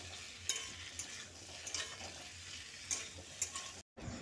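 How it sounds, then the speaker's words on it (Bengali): Sliced onions being stirred with fried pumpkin in a pan, a steady soft sizzle with a few sharp utensil scrapes and taps, faint and close, with no voices. "পেঁয়াজগুলো দিয়ে এবার একটু ভালো করে নেড়ে চেড়ে নিতে হবে।"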